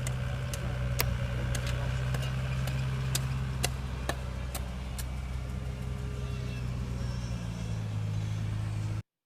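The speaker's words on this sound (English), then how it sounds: "Here are some men moving things with a big payloader that can carry all kinds of dirt and stuff." A big payloader's diesel engine drones steadily out on a street, a loud, close, continuous low rumble with sharp metallic clanks and knocks scattered through it, fading off at the end.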